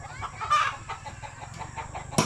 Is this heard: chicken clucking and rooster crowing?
yes